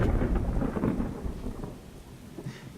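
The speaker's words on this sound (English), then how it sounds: "It's just rain." Steady rain with low rumbling thunder in the Wargroove strategy video game at Cherrystone Castle, a dense continuous wash that fades slightly toward the end, with no talking.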